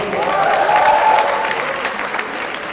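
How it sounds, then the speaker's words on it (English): Audience applause at an entertainment show, a sustained wash of many hands clapping at steady volume, fading slightly toward the end. "a big applause for yourselves"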